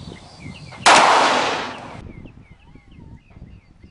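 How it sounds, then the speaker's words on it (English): A single loud gunshot from a Freedom Arms .454 revolver fired at an egg outdoors, a sharp crack with a brief trailing decay, set against quiet background birdsong. "Hit egg with a 454, it scrambled instantly."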